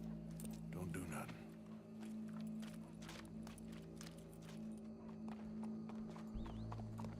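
Horse hooves clopping in Red Dead Redemption 2, a steady series of soft thuds under game music and ambient noise, with a brief whinny near the start and voices talking around it.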